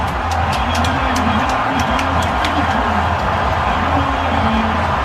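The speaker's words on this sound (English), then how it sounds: "And the crowd just sets in. The environment is electric." Stadium crowd at a college football game, Cougars against Kansas State, roars in a loud, sustained wall of cheering and whoops right after a touchdown, with no talk over it.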